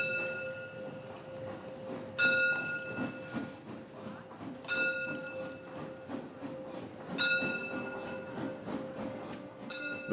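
A narrow-gauge steam train rumbles through the town center of Bad Doberan, Germany, with steady rolling clatter, punctuated by repeated bright horn or bell tones every couple of seconds.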